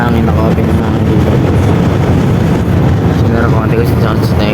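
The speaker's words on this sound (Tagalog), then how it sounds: "ito hangin, naka-open na hangin dito." Wind roars through an open car window while driving on the Maharlika Highway, a loud, constant buffeting rush with low rumble and microphone wind noise throughout.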